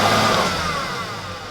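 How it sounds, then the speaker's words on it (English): A 1994 Ford Mustang's engine revs hard as a tire spins, a loud, close, rising drone that eases off and fades over about a second and a half, with no talking. "See a little, she spins the tire."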